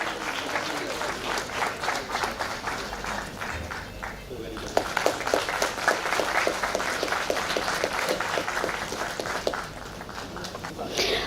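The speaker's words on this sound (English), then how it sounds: "Big round of applause, please." A seated audience at a live event applauds performing artists, the clapping swelling loud and dense before easing off, with a voice over a public-address system talking at the start.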